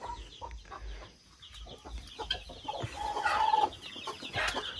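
Chickens and guinea fowl on a farm at night, clucking and calling in a soft, scattered chorus that rises near the end, a little distant, with no talking.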